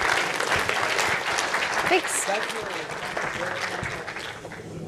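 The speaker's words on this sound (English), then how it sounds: "let's give a round of applause to our research panel." Audience applause for a research panel at a journalism conference, a dense steady clatter of many hands lasting throughout, with a brief spoken thanks over it.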